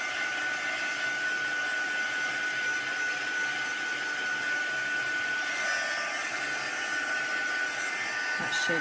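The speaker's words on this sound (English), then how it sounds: "I'm going to turn this over and just dry on the back as well" Hair dryer blowing on an art journal page, a steady loud whirring hum that runs unbroken at close range, with a slight shift in tone near the end as the page is turned.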